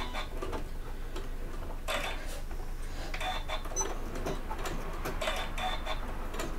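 Sewing machine reverse stitching while making a bag, soft rapid mechanical ticking in short slow bursts, close and fairly quiet.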